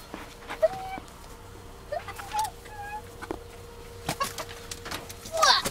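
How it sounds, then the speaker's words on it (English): Scattered clucks and short squawks from chickens, irregular and fairly close, over a quiet background with a few sharp rustling bursts. "Runaway chickens!"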